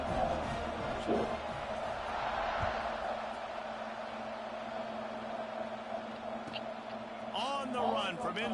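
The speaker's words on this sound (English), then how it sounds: "this crowd now ready to get behind them" In a college football video game, a stadium crowd roars in a steady, broad wash of cheering as the teams line up for a kickoff, with faint whistles near the end.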